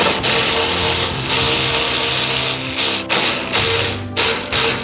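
An Ingco power tool loosens 10 mm bolts on a car in a workshop, giving close, loud mechanical whirring and ratcheting bursts with brief pauses between them.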